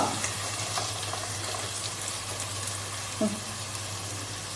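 Tomatoes hit frying biryani masala with ginger-garlic paste, giving a continuous close sizzle with light stirring scrapes and a brief clink near the end, no voice.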